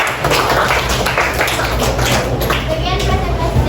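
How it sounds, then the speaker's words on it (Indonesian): A classroom full of students applauds for the second presentation group, steady dense clapping lasting throughout, loud and close, with children's voices mixed in underneath. "Oke, aplaus untuk kelompok 2."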